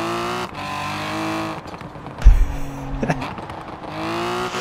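A Morgan Three Wheeler engine in the Forza Horizon 4 racing game rises and falls in pitch as it revs. It dips briefly between gear changes, with a low rumble and a faint tire squeal midway.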